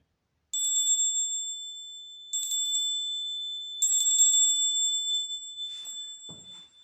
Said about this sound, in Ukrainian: сьогодні у нас пролунає символічний дзвоник